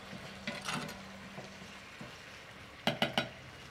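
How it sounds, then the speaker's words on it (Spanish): Tomato salsa fries in a pan on a ranch stove, giving a soft steady sizzle broken by a few light scrapes and clinks of stirring, ending with three sharp metallic knocks. "Aquí la vamos a dejar que se vaya friendo. Para que quede bien fritita"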